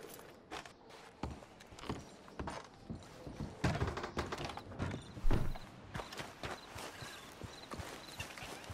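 Horse hooves clip-clop in Red Dead Redemption 2, a steady run of hoof strikes with some mechanical clicks mixed in, moderately loud with no talk.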